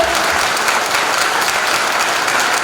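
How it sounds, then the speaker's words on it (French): Steady, dense applause from a large crowd at a bookshop appearance by Jean-Luc Mélenchon in La Rochelle, loud and sustained throughout with no pauses. "je crois qu'on peut l'applaudir chaleureusement"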